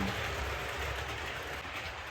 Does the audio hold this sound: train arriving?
yes